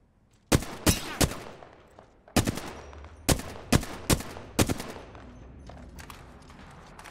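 Gunfire from Apex Legends sounds as sharp, loud single shots in irregular bursts of two or three, spread across several seconds with short pauses and faint echoing tails between them.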